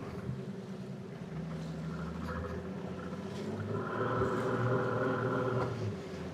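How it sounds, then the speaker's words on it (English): A lobster-fishing boat's faulty engine drones steadily with a rough, uneven tone, a wavering higher whine rising partway through over wind and water noise. "The engine's making some weird noises."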